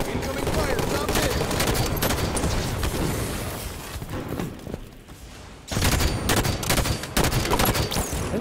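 Rapid automatic gunfire from Halo 5 multiplayer on the map Truth, loud dense bursts of shots filling most of the clip with a short lull before firing resumes.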